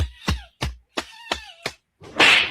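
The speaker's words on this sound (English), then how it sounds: "Man, their hiss is so loud, man." A caracal cub gives several short, sharp, yowling calls in quick succession, then a loud, breathy hiss burst closes the sequence, all close by.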